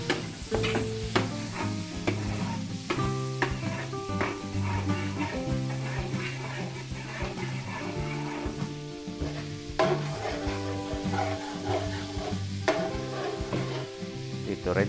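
Garlic sizzles in margarine in a pan while a busy mix of background music and sound plays loudly over the soft, steady frying.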